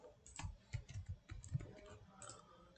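Typing on a computer keyboard while entering a prisma.ts file name, a quick run of close, light key clicks in uneven bursts with brief pauses and no talking.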